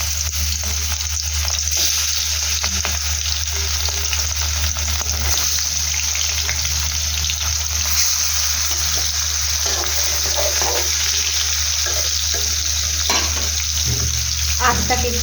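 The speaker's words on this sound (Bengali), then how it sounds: "আমার তেল গরম হয়ে গেছে। আমি এখন মাছগুলোকে ছেড়ে দেবো।" Katla fish pieces frying in hot oil, a dense, steady crackling sizzle that holds close and constant, with a few faint clatters near the end.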